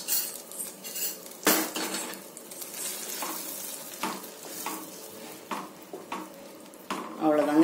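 Metal spoon scraping and clinking in a pan as kesari is stirred with fried cashews and raisins, repeated sharp scrapes at an uneven pace over a soft sizzle, close and fairly loud, with no talking.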